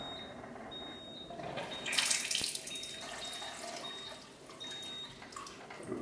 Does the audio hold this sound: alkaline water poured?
yes